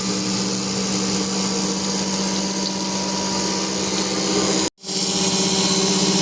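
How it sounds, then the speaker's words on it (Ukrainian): A loud, steady power tool whines continuously as it grinds a metal caliper, cutting out abruptly for a split second before resuming at full strength. "Так, шліфуємо вперед, верніше вниз."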